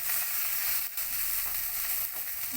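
Spice masala for an egg biryani fries in oil while being stirred, a steady close sizzle with soft scraping strokes and a brief gap near the start, no voices.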